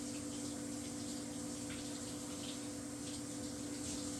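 A large beef roast being rinsed under running water at a farm kitchen, producing a continuous quiet splashing flow with a steady hum beneath it and no talking.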